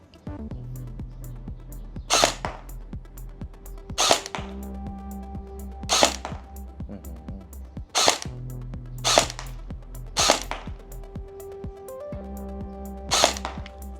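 Sijun MK-18 electric gel blaster fired at a 10-metre range, giving seven sharp, separate shots spaced about two seconds apart over a steady low mechanical hum, with no talk.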